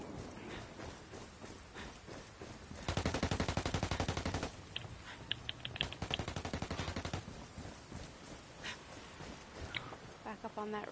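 Incoming gunfire in a Ghost War match, with two long rapid automatic bursts and scattered single shots at moderate distance, and voices talking at points around the shooting.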